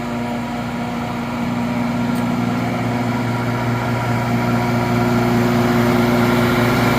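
A New Holland skid steer runs steadily with its engine near 3/4 throttle, a constant close droning hum with a strong low tone, fitted with a jaw crusher for crushing concrete, and no talk over it.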